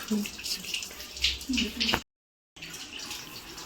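Water runs through a water purifier during cleaning, a close splashing, gurgling flow that cuts to silence for half a second and then resumes.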